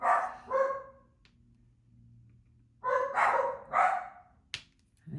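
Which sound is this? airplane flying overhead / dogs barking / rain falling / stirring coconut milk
dogs barking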